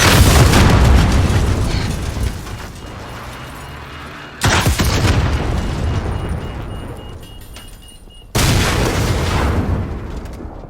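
Explosives blow up a vehicle in Call of Duty: Warzone, three heavy booming blasts in sequence, each bursting loud and then rumbling and fading away.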